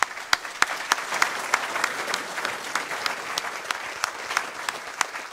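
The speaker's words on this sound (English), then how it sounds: "Round of applause for Paul and James." A room full of people at a green technology event clap steadily, a sustained round of applause for speakers with sharp individual claps standing out.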